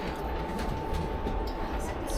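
A passenger train is stopped at Murray Bridge station, about an hour and a half outside Adelaide, with a steady broadband rumble and hiss from the railcar, a faint hum and soft clicks throughout.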